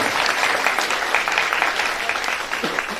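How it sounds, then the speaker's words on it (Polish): A crowd at a Women's Day gathering in Filipów, Poland, applauds the local mayor, steady dense clapping from many hands throughout, close and lively, with no pause. "brawa, brawa na Pana Wójta"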